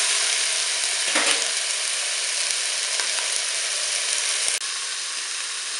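Pork shank slices browning in a hot pan on all sides give a steady, close sizzle with a brief stir or scrape near the start, the frying level dipping slightly toward the end.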